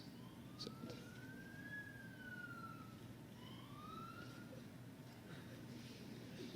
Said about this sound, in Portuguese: Será que era uma ambulância?